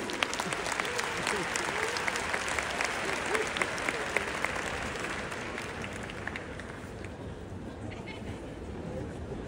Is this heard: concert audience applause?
yes